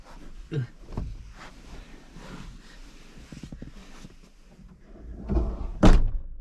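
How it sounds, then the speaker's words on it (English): A compact SUV door is pulled shut from inside during a solo camping night in the mountains. Soft shuffling and handling noises lead up to one solid thud near the end. "Close the door."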